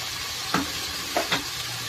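Onion, ginger and garlic paste sizzles steadily in a pan for a fish curry, with a few soft scrapes of a spoon stirring through it; no one talks.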